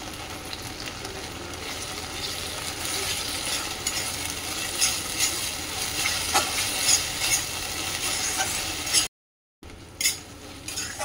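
Masala with tomato sauce and soy sauce stir-fried in a pan for a jackfruit chilli dish: a steady close sizzle with scattered scraping and stirring clicks, cut by a brief silent gap near the end.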